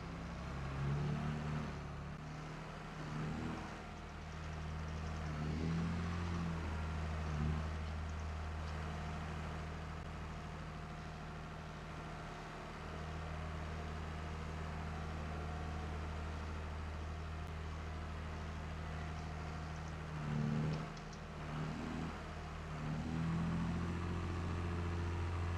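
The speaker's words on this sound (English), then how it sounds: "Rev her up a little bit." Engine running on a dairy farm, a low steady rumble with a few brief swells as it is revved, moderately near with no talking.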